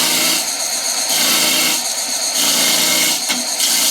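A skew chisel takes peeling cuts on a spinning wood lathe, bursts of bright shaving noise rising and falling in three passes over the steady hum of the machine, close and fairly loud.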